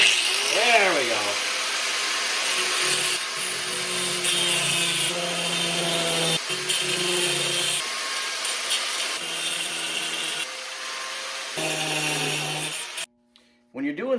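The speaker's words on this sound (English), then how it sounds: "What I'm gonna do is I'm gonna grind that off right there" An angle grinder grinds metal off a tracksled, loud and close, with the pitch shifting as the disc bites, in several long bursts broken by short pauses before it cuts out near the end.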